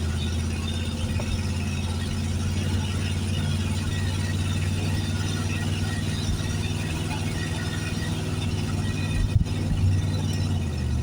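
A 1973 Plymouth Fury III rolls along in gear, its engine a steady low drone that holds evenly throughout, near and fairly loud, with a brief bump near the end and no talk over it.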